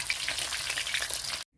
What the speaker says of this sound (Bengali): এখানে পুরো মাছটা ভাজা হয়ে গেছে।